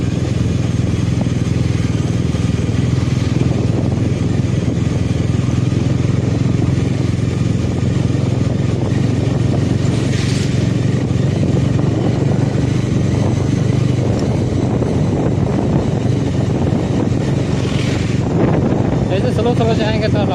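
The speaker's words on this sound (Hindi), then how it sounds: "देख सकते हैं दो बाइकों को, एक है 400 और एक है 160।" Two motorcycles, a 400 and a 160, ride near Kaluti dam, a loud continuous engine drone heavily buffeted by wind noise on the microphone, with no clear gaps across the ride.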